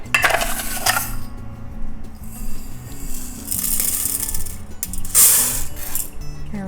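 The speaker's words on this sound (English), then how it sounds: "I'm gonna put a half a cup of rice in each one to make this fair" Dry rice is poured, half a cup at a time, into identical cooking pots for a rocket stove cook-off, giving bright rattling patters and metallic clinks in a few separate bursts with quieter handling between.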